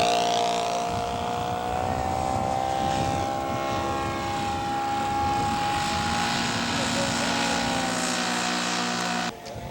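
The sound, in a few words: scale model airplane with OS 120 engine doing touch and go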